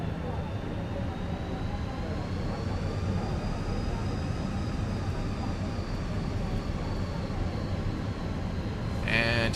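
The engines of a Fenix A320 in Microsoft Flight Simulator, with Air New Zealand livery, hold a steady loud whine and roar with a slowly rising tone, ending in a brief burst of noise.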